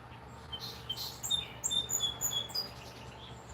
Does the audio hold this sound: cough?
no